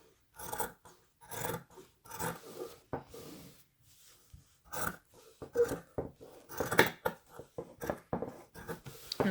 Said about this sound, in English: I'm going to cut again along this line to just cut away this surged and doubled seam